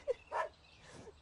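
Dogs on a farm give a couple of brief, sharp barks or yips, fairly faint and somewhat distant, followed by quieter rustling.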